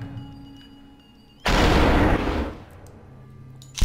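Superhot gameplay: a dense, loud burst of gunfire erupts suddenly and holds for about a second before cutting back to a quiet hum, followed by a faint click and a sharp final pop at the end.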